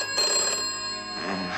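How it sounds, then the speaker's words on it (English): A telephone bell rings steadily indoors in a 1970 film scene, a bright, continuous ring heard alone without talk. "Answer the phone, somebody."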